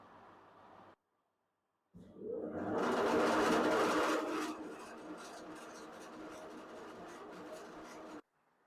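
A TCF400 feed pellet machine runs with its motor driving a reducer, giving a steady broadband mechanical whir that swells loudly for a couple of seconds, then settles into a constant running hum before cutting off.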